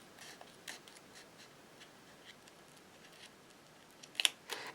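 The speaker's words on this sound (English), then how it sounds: "I'm going to trim it with my scissors directly up to the line." Scissors snip through a laminated plastic pouch in a series of quiet, irregular cuts, ending with a sharper, louder cluster of crisp snips close by.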